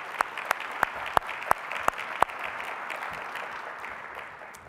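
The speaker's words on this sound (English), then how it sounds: "Let's give her a round of applause." Applause from the audience at a county State of the County address: several sharp, evenly spaced claps ring out close by, over a steady wash of crowd clapping that continues afterward.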